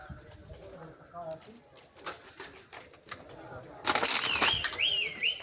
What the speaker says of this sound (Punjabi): ਇਹ ਚੈੱਕ ਕਰੋ ਕਬੂਤਰ।